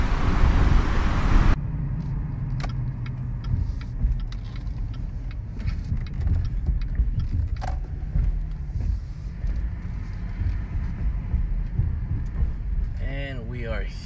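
A car drives along a road, with a steady low engine and tire rumble and passing traffic noise inside the cabin, and occasional voices speaking over it.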